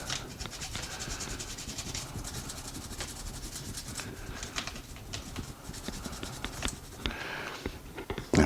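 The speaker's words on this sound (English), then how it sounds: "And then we do the same with the lower. Give it a good old scrub down." Brush scrubbing the lower frame of a Canik TP9 SF full-size pistol during cleaning, a continuous close scratchy rubbing with quick back-and-forth strokes, no talking.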